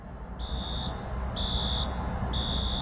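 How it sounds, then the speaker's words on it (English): An alarm beeps three times in a steady repeating pattern, high and piercing, over a constant background rumble. "That's the alarm that has been going off since around 1 o'clock in the morning"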